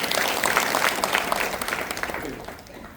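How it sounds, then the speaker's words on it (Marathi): An audience applauds at a devotional gathering after a sung aarti with accompanying music, with sustained clapping that gradually fades toward the end. "त्याबद्दल एकदा सर्वांनी टाळ्या वाजवा"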